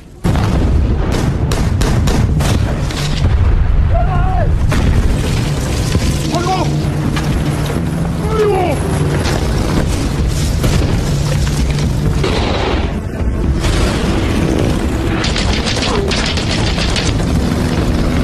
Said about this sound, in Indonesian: Jepang membombardir orang Siddiq dengan meriam dan pesawat tempur mereka.